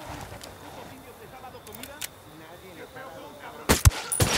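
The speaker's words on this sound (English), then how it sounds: "Shooting these fuckers" Gunshots in the PC shooter Ghost Recon Wildlands, a quick cluster of several loud cracks near the end after a quieter stretch with soft game ambience and a faint click or two.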